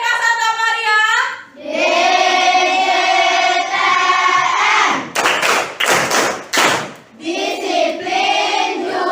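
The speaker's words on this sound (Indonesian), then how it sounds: "kita tepuk DJTM dulu" Elementary schoolchildren in a classroom perform a rhythmic clapping chant, their voices chanting in unison with sharp, loud hand claps striking in a quick cluster mid-way before the chanting resumes.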